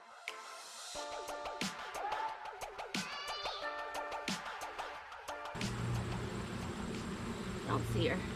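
Honey bees buzzing around an open hive during an inspection, a close hum with a few mid-level clicks and handling noises, then a steadier drone.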